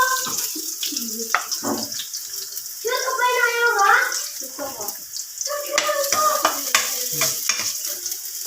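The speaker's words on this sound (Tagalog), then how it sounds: "Igisa natin ng luya." Ginger being sautéed in hot oil for a Filipino stir-fried squid and vegetable dish, with steady close sizzling and scraping stir strokes, and a few soft voices in the background.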